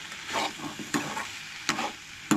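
Onion and tomato fry gently over low heat for Goan-style chicken. A quiet sizzle is broken by about four distinct scraping stirs at a steady pace.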